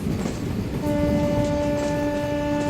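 The Porbandar–Secunderabad Superfast Express, train 20968, rumbles along loudly between Rajkot and Ahmedabad, then a long, steady horn sounds and holds through the rest over the heavy rolling noise.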